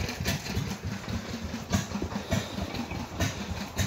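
An old stationary engine drives a big Hardy triplex pump in a collection alongside an Ontario Wind Engine and Pump transfer pump, chugging steadily with a loud, rhythmic low throb and regular heavier beats throughout.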